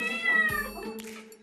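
Several cats meow insistently in protest at mealtime, overlapping high wavering cries close to the listener, one long meow followed by shorter ones and light background noise.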